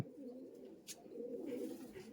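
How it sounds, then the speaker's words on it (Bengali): Giribaz and Matras pigeons coo in a low, continuous murmur that stays moderately near and steady throughout, with no talk over it. "এটা ম্যাট্রাস পায়রা আর এটা গিরিবাজ"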